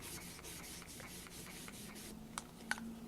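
A stain dauber rubbed across a papercraft surface gives a steady, soft scrubbing swish in short repeated strokes, close and quiet, ending with a couple of light taps.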